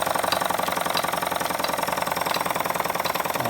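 A Jensen #10 deluxe toy steam engine runs steadily, a fast even mechanical chugging and whirring that carries on without a break, close and fairly loud with no voices.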